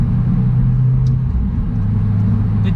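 A 2018 Subaru WRX engine hums loudly from inside the cabin while driving, its pitch dropping then climbing again as the driver rev-matches on a downshift, over a steady low rumble.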